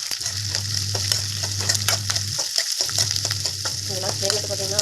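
Garlic sizzles loudly in hot oil in a pan for tomato chutney, a continuous crackling fry with stirring scrapes and a brief pause near the middle.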